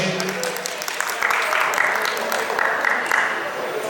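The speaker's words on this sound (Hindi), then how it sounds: "सबके लिए एक बार जोरदार तालियां हो जाए प्लीज।" Audience clapping at an awards show, a moderate wash of applause running under a voice speaking over a loudspeaker.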